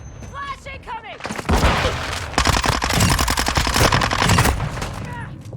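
Call of Duty: Modern Warfare 2 team deathmatch on the Shoot House map, with bursts of rapid automatic gunfire mixed with single shots. The firing is loud and continuous, and in-game voices call out over it.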